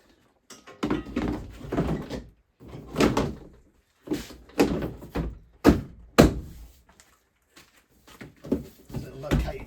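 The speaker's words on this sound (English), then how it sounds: "So let's chuck the bumper on to see how she lines up." Plastic front bumper being offered up and clipped onto a Renault Zoe electric car, a series of close, hollow thunks and knocks in irregular bursts with brief quiet gaps between them.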